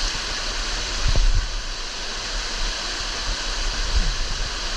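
A mountain waterfall in New Zealand roars as a steady broadband rush, close and continuous, with a few brief low thumps and swells in between.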